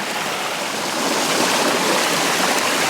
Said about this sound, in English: I'm virtually right on top of this waterfall here